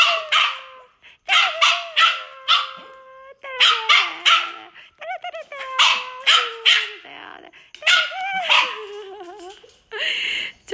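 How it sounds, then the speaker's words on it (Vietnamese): A puppy barks and howls loudly and close by, letting out a rapid series of sharp yelps, whimpers and drawn-out rising howls with short pauses between bursts. "Nó đã rất là tức bởi vì bị treo lên, nó đã kêu gào cái mồm nó lên."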